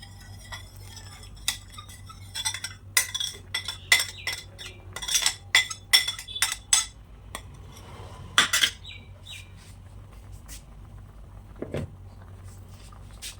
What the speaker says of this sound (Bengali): এবার আমি হাতাটা এর মধ্যে ধুয়ে দিই এবং প্লেটটাও